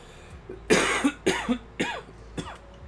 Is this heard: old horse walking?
no